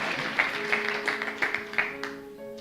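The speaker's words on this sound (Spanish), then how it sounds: "Fuerte ese aplauso al único que merece alabanza" Church congregation clapping in a rhythmic unison beat, about five evenly spaced claps standing out above sustained music and a murmur of the crowd.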